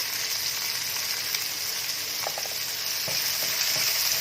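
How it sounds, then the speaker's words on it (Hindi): Finely chopped onion fries in hot oil with garlic and cumin, giving a steady, close sizzle broken by a few soft scrapes and clinks of a spoon stirring the pan. "प्याज हमारा फ्राई हो रहा है"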